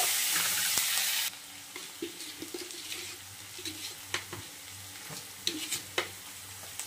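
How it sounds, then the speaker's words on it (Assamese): Chopped garlic dropped into hot oil left from frying fish, a continuous close sizzle with intermittent soft stirring taps, opening with a louder hiss burst that drops to a steadier crackle. "মাছ ফ্ৰাই কৰা তেলতে এতিয়া মই দিম নহৰু"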